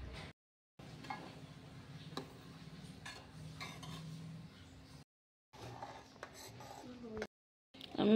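A spoon stirring milk and fried Gobindobhog rice for payesh in a pot makes faint scraping and light clinks against the metal, steady and quiet with a few brief gaps.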